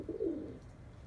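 Baby pigeons give a single soft, low coo on a rooftop, faint against a quiet background hum.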